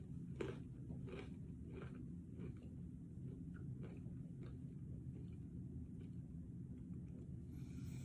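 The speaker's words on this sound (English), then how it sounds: "When you take a bite of your cracker, you chew it, you start to swallow normally." A cracker being chewed during a dysphagia swallowing assessment gives soft, close crunches in a steady rhythm, roughly one or two a second, over a quiet low room hum with no talking.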